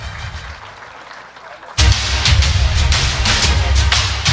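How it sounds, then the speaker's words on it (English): Loud, sustained applause from an audience at a mayoral awards ceremony in Naga honoring youth awardees, bursting in suddenly after a quiet stretch and continuing as a dense, steady roar of clapping to the end. "let's give a round of applause to our Jesse M. Robredo Youth Awardees"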